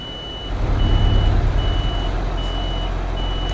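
A truck reversing in Euro Truck Simulator 2: evenly spaced reversing beeps over a deep, steady diesel engine rumble, close and alone with no voices.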